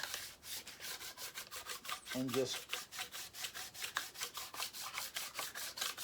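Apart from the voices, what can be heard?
hand sanding metal with wet-dry sandpaper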